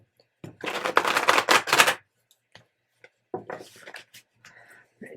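Tarot cards being shuffled by hand, a brisk riffling burst of about a second and a half, then a pause and a few shorter, softer flutters and taps, close and clear.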